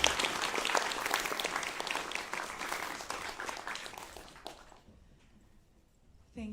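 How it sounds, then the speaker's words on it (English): Crowd applause, dense steady clapping that fades out over several seconds, followed by a brief quiet. "let's just give them some love, some energy, and a round of applause"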